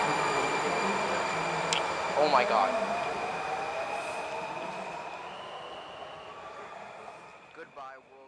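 A DC Metro subway train rolls with a steady, close rumble and a faint high whine, gradually fading as it pulls away. A voice briefly exclaims over the noise.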